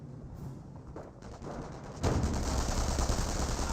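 Rapid rifle and machine-gun fire crackles in a Company of Heroes battle as a rifleman squad is cut down, quieter bursts first, then a louder sustained barrage of overlapping shots.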